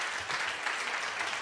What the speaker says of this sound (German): Steffi, dein Applaus.